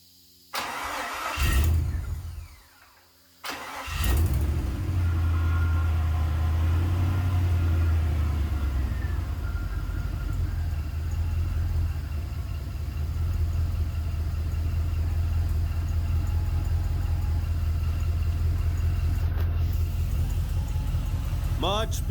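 A 4.8L LS V8 engine in a 1976 Toyota FJ40 Land Cruiser cranks and catches after a brief stumble, then settles into a steady, deep rumbling idle that runs on with little change.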